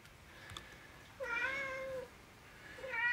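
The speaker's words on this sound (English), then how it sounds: "We also have a cat in the background." A domestic cat meows in the background, a drawn-out meow in the middle followed by a shorter one near the end, fairly faint against quiet room tone.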